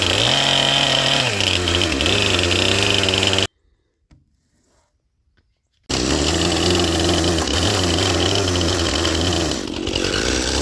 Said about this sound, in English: I'm going to take the chainsaw and whittle those out.